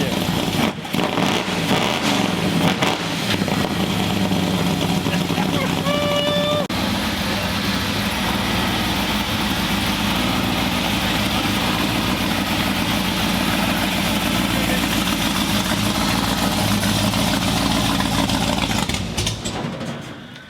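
A cammed small block Chevy V8 with an old school exhaust rumbles steadily and loudly at close range for about twenty seconds, with a lumpy idle and a few revs, as people talk faintly nearby.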